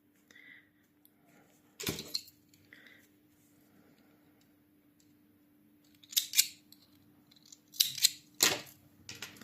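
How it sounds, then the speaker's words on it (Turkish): Scissors snip the thread on colorful decorative buttons, four close crisp cuts, one single snip followed after a pause by three more in quick succession, in a quiet room. "şöyle bunu arkada birbirine bağlayarak tekrar kesiyorum"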